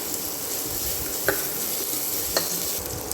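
Spices sautéing in a pan for Indian egg curry give a steady, close sizzle, with two brief clinks of a spoon stirring against the pan.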